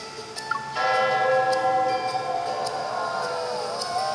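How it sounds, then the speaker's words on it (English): A ceremony bell in a romance video game rings with a sustained, shimmering metallic tone that starts abruptly and holds loud and steady, with faint higher chimes over it. "each couple rings the ceremony bell"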